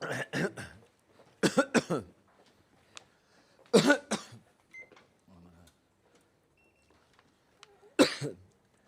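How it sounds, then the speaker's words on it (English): A person coughs in several harsh bursts, close to the microphone, with throat clearing and brief chatter between fits, outdoors in Jerusalem's Old City. "Sorry for the coughing, guys."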